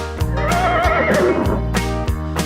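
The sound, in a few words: horse neighing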